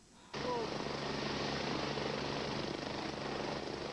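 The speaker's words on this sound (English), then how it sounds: "A life flight helicopter was called in" A medical life flight helicopter roars in abruptly and holds steady, loud and close, its rotor thrum and engine whine filling the scene.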